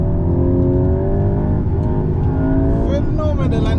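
A Volkswagen Golf GTI engine pulls hard under acceleration, a steady loud drone that climbs in pitch toward the end, with a voice speaking over it.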